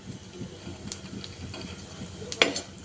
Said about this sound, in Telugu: తర్వాత జీడిపప్పు తరుగు వేసుకొని ఫ్రై చేసుకోవాలి.